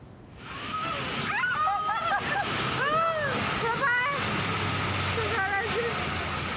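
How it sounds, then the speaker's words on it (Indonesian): A strong windstorm with hail lashes the Tugu Kartonyono crossroads in Ngawi, East Java, as a loud, continuous roar of wind and hail. Wavering tonal cries rise over it now and then. "Angin kencang yang terjadi selama 5 menit tersebut disertai fenomena hujan es."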